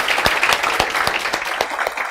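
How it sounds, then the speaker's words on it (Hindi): Students in a lecture class applaud loudly, a dense burst of steady clapping with sharp individual claps popping out, close and continuous for a couple of seconds. "जोरदार तालियां बजा दो."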